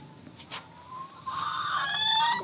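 Rhode Island Red native chickens cluck close by during an egg collection, a run of short clucks building into a louder, more sustained call with no talking.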